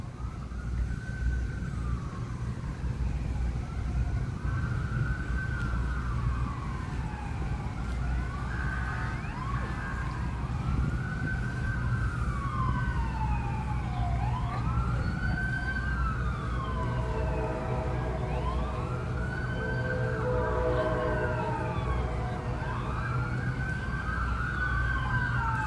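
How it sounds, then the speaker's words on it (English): Emergency vehicle sirens wail through a city street, several overlapping rising and falling tones at moderate distance over a steady traffic rumble. "Another siren."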